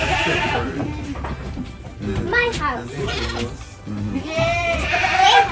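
Boer goats bleating on a rural farm in St. Andrew, Jamaica, several wavering calls spread through the clip, close by and mixed with people talking.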